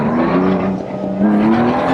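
A race car in a sim racing game pulls alongside and passes, a loud, close, steady engine drone with a rising pitch and faint tire noise, no voices.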